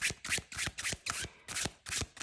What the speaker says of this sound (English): So overhand shuffling is quite good.